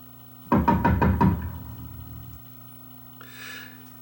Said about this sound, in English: How about door knocks?